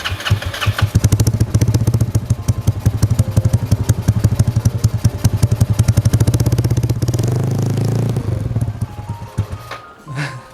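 A 2004 Yamaha Nouvo scooter-style motorcycle engine runs loud and close, a rapid pulsing putter that holds steady, shifts into a smoother revving hum, then fades and cuts out near the end.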